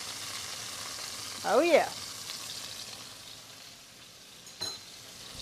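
Meat frying in a pan just after being flipped, a steady faint sizzle under a brief spoken voice, with a short louder crackle near the end.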